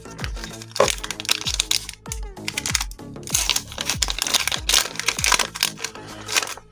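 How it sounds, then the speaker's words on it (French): Panini Adrenalyn XL Ligue 1 24-25 card pack wrapper being torn open, a run of close crinkling and crackling foil rips with irregular bursts, alongside some talk. "on va ouvrir le pack d'édition limitée"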